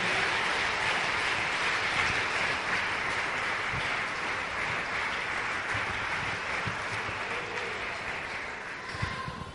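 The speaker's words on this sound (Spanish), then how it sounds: "Dele fuerte un aplauso al Señor." A church congregation applauding, a steady wash of clapping from many hands that holds evenly throughout and fades slightly near the end, heard at a moderate distance.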